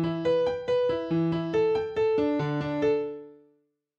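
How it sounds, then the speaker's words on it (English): Arpeggiated synth chords from the FL Studio arpeggiator, a steady run of bright stepped notes cycling through chord tones for about three and a half seconds, then decaying into silence, alone with no talking. "So for example, if you want your arpeggiation to sound like this"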